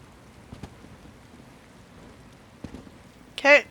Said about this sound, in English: Just wish it wasn't raining.